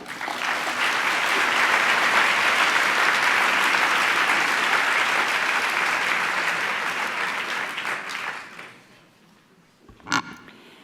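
Sustained audience applause fills a conference hall for a speaker introduced by name, loud and steady for about eight seconds, then fading to near quiet with one brief burst near the end.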